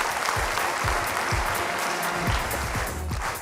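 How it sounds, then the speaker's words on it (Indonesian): Studio audience at a television talk show applauding, a dense, sustained burst of many hands clapping together at an even level from start to finish. "Ya, tepuk tangan yang luar biasa dulu buat Bunda Anne."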